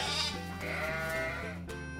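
Sheep bleat in a sustained, wavering, fairly loud cry that sits alone over a faint music background.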